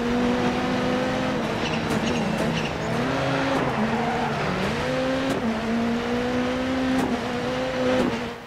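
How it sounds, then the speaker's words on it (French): A Ford Focus rallycross car in DiRT 4 drives hard on a World RX circuit, its engine holding a steady loud drone that rises and dips through gear changes, with brief tire noise and no voices. "Allez, on lance la voiture."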